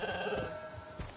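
A goat gives a short, faint bleat in the video game Genshin Impact.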